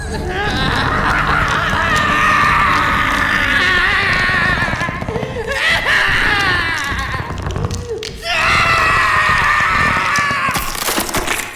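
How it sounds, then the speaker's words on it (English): In an audio drama, a man's drawn-out scream rises and breaks into strained bursts, loud and close, repeating over several seconds with brief pauses between the cries. "He screamed. Not a cry of fear, but a rejection of the thing that was taking him."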